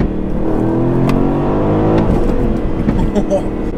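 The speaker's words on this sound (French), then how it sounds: "Quel plaisir de se retrouver dans une voiture avec un énorme V8 à l'avant, 510 chevaux et une boîte manuelle." A 2019 Aston Martin Vantage AMR's front-mounted 510-horsepower V8 with a manual gearbox hums and revs loudly and steadily inside the cabin, while someone talks over the engine note throughout.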